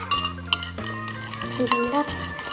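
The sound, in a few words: stirring slime mixture in a bowl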